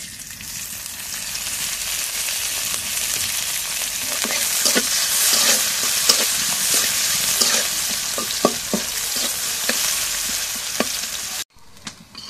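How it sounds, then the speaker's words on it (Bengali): Chopped onion and chilli fry in oil in a pan with a loud, steady close sizzle and scattered light stirring clicks throughout. "এখন করে আমি পেঁয়াজ কাটা মরিচ করে দিয়ে দিই। এখন তেল দিয়ে দিই।"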